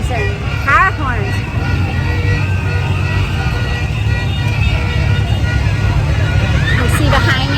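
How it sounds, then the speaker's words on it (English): A loud night-time street celebration with whistles, horns and car horns. Chirping whistle bursts come near the start and end over a constant wash of crowd babble and traffic noise. "Whistles and horns and car horns."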